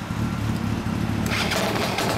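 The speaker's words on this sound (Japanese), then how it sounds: "あのランザーのエンジンを聞かせて。" A Yamaha Lanza motorcycle engine running close by, a steady loud low-pitched idle with a rough mechanical rumble, rising to a brighter revving note partway through.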